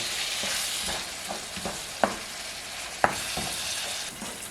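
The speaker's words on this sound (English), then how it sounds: "Give this a mix round." Spaghetti bolognese being stirred after tinned tomatoes and tomato puree go in: a steady wet sizzle with a scatter of soft spoon scrapes and two sharper knocks against the pan, close and alone.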